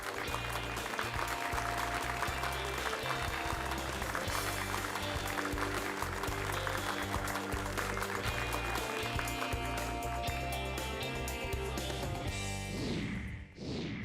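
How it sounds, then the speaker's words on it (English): Loud, sustained audience applause fills the hall as a panel moderator is welcomed on stage at a legal awards grand finale, steady dense clapping throughout before fading out near the end. "Let's welcome them with a huge round of applause"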